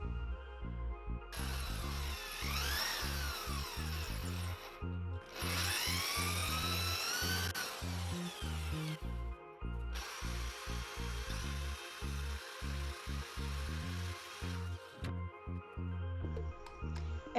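A power drill whines in long bursts with rising pitch sweeps as it bores two holes into a wall for shelf plugs, pausing briefly between runs over a steady low hum.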